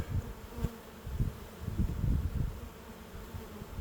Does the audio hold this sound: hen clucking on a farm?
no